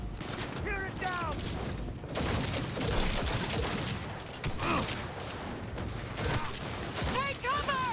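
Bursts of gunfire in the video game Cyberpunk 2077, with rapid shots and metallic mechanical clatter over a dense, busy mix of combat noise and music, with voices shouting through the fight.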